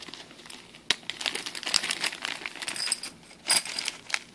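A plastic bag holding instruction sheets for a Glowshift gauge kit crinkles and rustles steadily up close, with a few sharper crackles standing out, and no voices.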